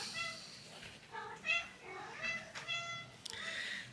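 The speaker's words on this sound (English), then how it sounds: "This cat loves Abby." A pet cat meows several times in short, clear, fairly close calls spread across a few seconds, set against a quiet indoor room during a cross-stitch session.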